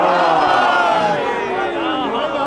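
A crowd at a religious poetry gathering chants the Haidari slogan together, a loud, sustained mass of voices rising and falling in unison without a break.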